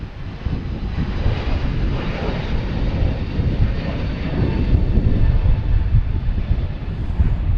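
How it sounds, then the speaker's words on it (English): A Swiss Air Airbus A330-300 airliner arriving from Zurich and landing at Boston Logan, a loud, steady low jet-engine roar with rumbling wind buffeting, sustained and rising slightly toward the end, no voices. "next coming in, we have Swiss Air, flight number 52, an A330-300, coming in from Zurich"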